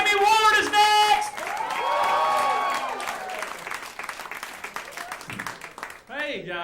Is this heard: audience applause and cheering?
yes